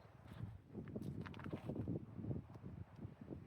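Steady wind gusting outdoors on a day hike, a broad rumbling roar that swells and eases with no talking.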